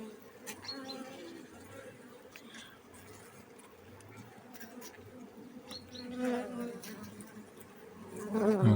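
Honeybees buzzing steadily around a small nucleus hive, a continuous droning hum with brief louder passes and faint handling noises.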